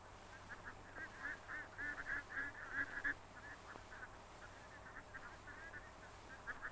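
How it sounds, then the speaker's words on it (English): A fisherman's trained cormorants on the water give a run of hoarse, honking calls in the first half, faint and distant over a noisy old film soundtrack hiss. "These birds are called cormorants"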